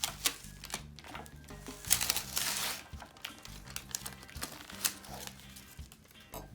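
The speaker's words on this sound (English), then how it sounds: "and now I can remove the paper" Scored release paper peeled off sticky tearaway embroidery stabilizer in a hoop gives a close, quiet crackling and tearing rustle over a low background hum.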